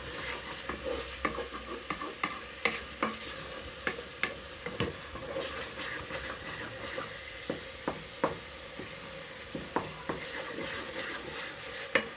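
Masala spices for a fresh turnip bharta sizzle steadily in a pan while a spoon scrapes and clicks against it in a regular rhythm of sharp taps, close and fairly quiet, with no voices.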